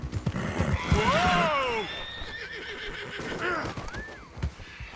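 Spooked horse in the video game Red Dead Redemption 2 letting out loud, shrill whinnies and snorts in a bayou setting, with hoof clops and ambient game sound underneath.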